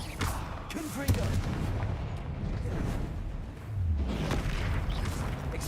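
Confringo blast spells in the Hogwarts Legacy video game: rumbling, booming impacts over a continuous dense game soundscape, with a couple of heavier bursts at moderate loudness.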